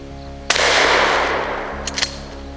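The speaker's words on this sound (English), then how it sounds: "For the heck of it, I'm just going to shoot it at this" A shotgun loaded with a cut shell fires once at a tree stump outdoors, a single loud sharp blast followed by a long decaying roar, then a few faint clicks near the end.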